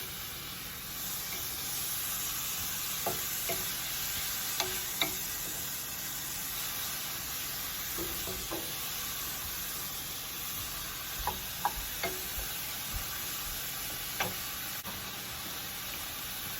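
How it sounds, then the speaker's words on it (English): Beef and broccoli with oyster sauce sizzle in a pan, a constant low frying hiss with scattered light clinks and scrapes as the food is tossed about. "Let's go ahead and toss this around."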